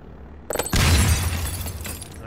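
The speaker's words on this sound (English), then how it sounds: "Let's blow up this glass here." A portable bomb blows out a pane of glass in the video game The Trap 2: a brief crackle, then a loud low boom with shattering glass that fades into a lingering rumble.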